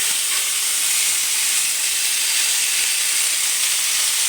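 Potatoes, peas and carrots hit hot oil with cumin and fennel seeds, giving a loud, steady, unbroken hiss of sizzling that holds at the same level from start to finish with no voices.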